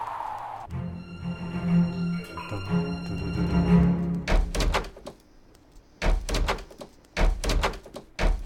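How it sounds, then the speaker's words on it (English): Doors opening and closing in the video game Avernum, with a series of close wooden thunks and clacks arriving in quick clusters after a sustained tonal drone of game music at the start. "So many fucking doors."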